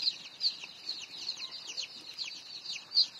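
Day-old layer chicks on a farm peep in a constant, overlapping chorus of high, rapid cheeps, with many birds calling at once at a steady moderate level.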